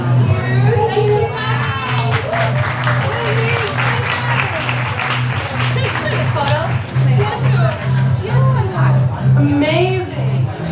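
Audience applause for the artists at a climate movement event, steady dense clapping sustained throughout, with a low musical hum underneath and some voices mixed in.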